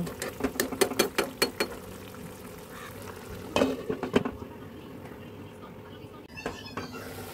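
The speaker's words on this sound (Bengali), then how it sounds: "এবার খুব ভালো করে কষিয়ে নেব।" Cabbage and potato for a korma are stir-fried in a pan. A spatula scrapes and clacks in quick rhythmic bursts over a low sizzle, pauses, then makes a second flurry of strokes before the sizzle continues more quietly.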